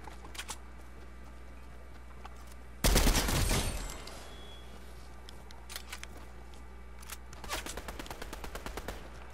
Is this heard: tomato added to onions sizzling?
no